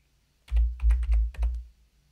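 Quick bursts of typing on a computer keyboard while entering an Excel formula, a handful of close, soft key clicks in a short cluster with quiet room tone before and after.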